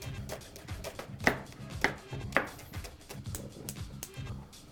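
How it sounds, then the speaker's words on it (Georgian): A knife chops a medium onion into thin julienne strips on a board, a quick, regular series of close, crisp taps with a few sharper knocks. "გვჭირდება 1 საშუალო ზომის ხახვი. დავჭრი ჟულიენებად,"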